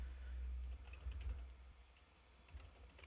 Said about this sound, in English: let's have a look at this and start typing something in here